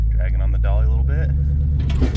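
A $250 Crown Victoria with a boat on a dolly in tow rolls along the road, a heavy low rumble and vibration droning throughout while someone talks over it.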